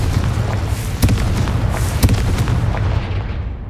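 A Confringo spell detonates in the Hogwarts Legacy video game as a run of loud, booming blasts, with two sharp heavy impacts standing out over a dense rumbling roar that trails off at the end.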